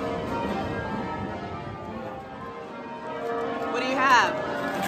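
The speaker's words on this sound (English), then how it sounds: "Can everyone else hear those bells or is that just me?" Church bells ring out across a busy London street market, Borough Market, mixing with a steady crowd murmur and clatter; a bright peal swells near the end, and people talk throughout.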